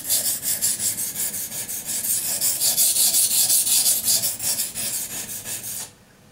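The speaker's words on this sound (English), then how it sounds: "I raise up my hand when sharpening close to the tip, belly portion," Buck knife blade rubbed back and forth on a waterstone in steady rasping strokes, close and fairly loud, continuing for several seconds before stopping abruptly near the end.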